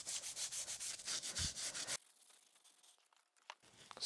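A Scotch-Brite pad scrubs the metal surface of a Cincinnati No. 2 tool and cutter grinder, giving close rhythmic rubbing strokes for two seconds before it drops to quiet handling noise with a few faint scrapes.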